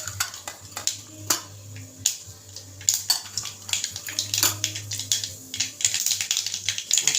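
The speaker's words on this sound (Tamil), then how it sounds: "கடுகு வெடிஞ்சிட்ருக்கு." Mustard seeds spluttering in hot oil in a pan, as the tempering for a lady's finger (okra) fry: dense rapid popping and crackling, close and lively, with no talking.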